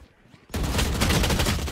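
Valorant gunfire bursts in suddenly after a quiet half-second and continues as a loud, dense stream of rapid shots.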